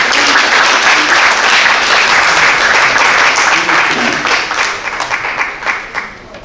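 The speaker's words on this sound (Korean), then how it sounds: "목사님 나오실 때 큰 박수로 환영해 주시기 부탁드리겠습니다." An audience in a church seminar hall applauds to welcome a pastor, with loud, dense clapping that holds steady and then thins into scattered claps as it fades out.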